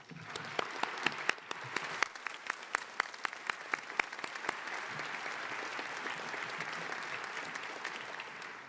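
Graduation crowd at a 2006 George Mason High School ceremony applauds, a steady roar of many hands clapping with crisp nearby claps, sustained evenly and gradually thinning toward the end.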